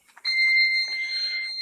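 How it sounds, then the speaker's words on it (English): A kitchen timer beeps loud and close with a steady shrill electronic tone, going off while eggs are poached. "there goes my timer"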